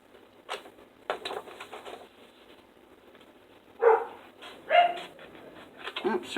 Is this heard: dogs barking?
yes